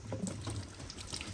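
Water splashes and pours continuously at close range during washing and scrubbing, a short, faint liquid sound with no talk.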